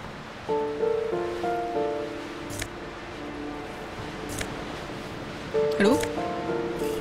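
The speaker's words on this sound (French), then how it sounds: "Les vagues s'écrasent dans l'obscurité." Surf rolling and crashing in the dark in the video game Disco Elysium, a steady wash of waves under faint musical tones, with a louder swell near the end.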